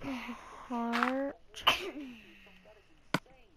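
A single sharp sneeze bursts out amid a quiet indoor scene, with a short spoken word before it and a faint click or tap afterward.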